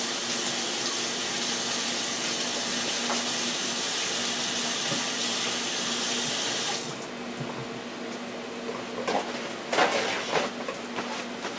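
Water runs steadily from a tap while a grill is washed, a constant close hiss that drops in level partway through, followed by a few clattering knocks.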